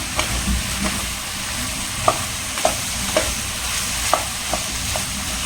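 Soya chunks and masala are stirred in a hot pan over a high flame, giving a constant dense sizzle with occasional light clinks and scrapes of the spoon and no speech.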